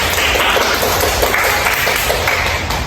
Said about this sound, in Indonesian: Jadi beri tepuk tangan buat kelompok 3.